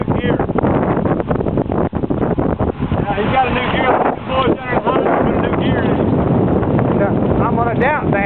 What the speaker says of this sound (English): Pretty day here, and windy, as Ronnie said.